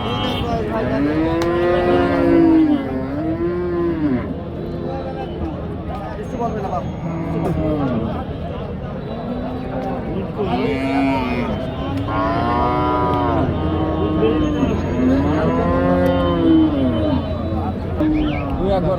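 Cattle lowing at a busy livestock market, several long moos rising and falling one after another, close and loud, with people talking and crowd babble underneath.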